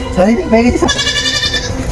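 Close goat bleats, a couple of wavering cries, mixed with loud speech and background noise.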